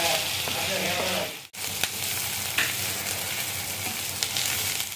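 Chopped onions hit hot oil for a Konkani-style spicy fish curry and sizzle loudly and continuously, with a brief dip before the frying hiss returns and small stirring clatters.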